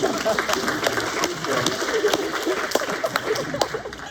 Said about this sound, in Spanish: Aplauso para su compañera.